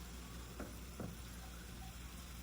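Steady, close sizzling bubble of sugar syrup boiling hard in a pan, with a couple of faint soft knocks.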